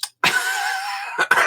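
A person coughs loudly and close into a microphone, giving one short burst followed by a long, harsh, rasping cough and a couple of quick trailing coughs.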